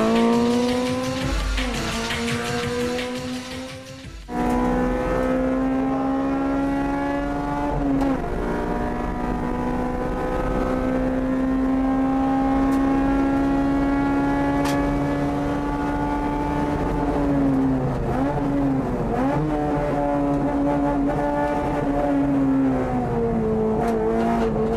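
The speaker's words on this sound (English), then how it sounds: "Legend is a Group N racing INTEGRA R built by Spoon Sports." A Spoon Sports Honda Integra Type R built for Group N racing drives at speed, its engine note droning loud and steady with rising and falling pitch through gear changes, continuous throughout.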